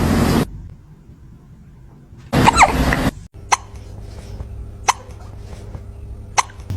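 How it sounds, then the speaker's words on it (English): A kitten hiccups in small, sharp, regularly spaced bursts, close and fairly quiet between louder bursts of background noise at the start. "Sound on for kitten hiccups."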